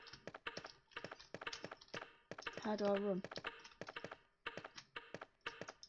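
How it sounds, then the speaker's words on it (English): Computer keyboard keys clatter in rapid bursts during PC play of a 1996 Resident Evil mod, close and fairly crisp, with someone speaking briefly over the typing partway through. "I'm gonna have to use the keyboard."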